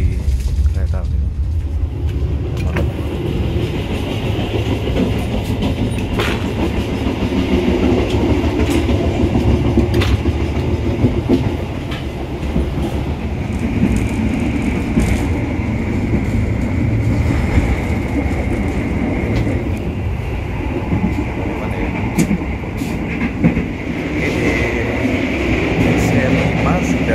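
Onboard the Argo Bromo Anggrek express, a steady rumble of wheels on rails runs throughout with faint rhythmic clacks and a hum of air conditioning, while people talk quietly in the carriage.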